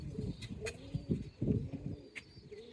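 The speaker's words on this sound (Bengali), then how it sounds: "অনেক কবুতর রয়েছে" Many pigeons in a loft coo in low, rolling bursts that overlap and repeat, close and fairly soft, with a few faint chirps above them.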